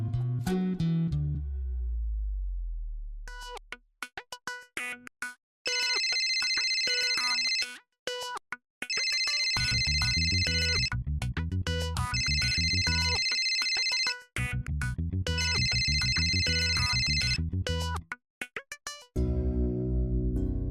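A phone rings in repeated electronic bursts of a bright, tuneful ringtone, each burst separated by short gaps, and the ringing keeps breaking off as the call is cut.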